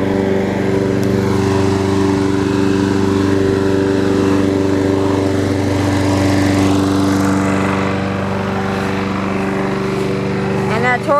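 A Toro lawn mower engine with a gummy carburetor runs steadily and close by, a loud continuous drone that holds for the whole stretch with a slight change near the end.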